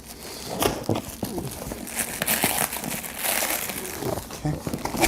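Packaging of an Amazon Basics desk-mounted monitor stand with a height-adjustable arm being ripped open, giving loud, close crinkling and tearing of cardboard and wrapping throughout, with a voice now and then.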